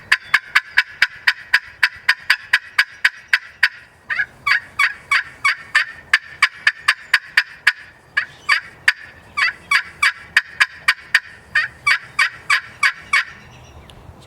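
A homemade turkey pot call worked with a purple heart striker, giving a fast, loud series of sharp yelping cutts in rapid bursts with short gaps, close and alone without talking.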